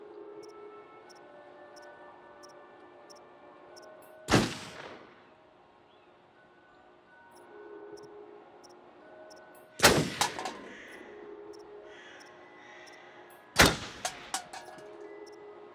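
Three loud gunshots ring out on a shooting range in Until Dawn, spaced several seconds apart, each a sharp crack with a brief echoing tail over a quiet, steady ambient hum.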